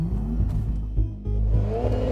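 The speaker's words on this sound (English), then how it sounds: "Launching the Panamera, like all Porsches, could not be easier." A 2014 Porsche Panamera 4S launches from a standstill in Sport Plus with its PDK transmission. The engine roars loud and close, and the rumbling pitch climbs steadily with a brief dip, like a quick gear shift, before it pulls hard again.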